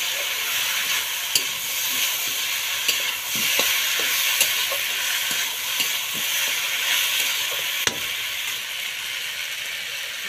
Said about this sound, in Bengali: ভাজা করে নিই।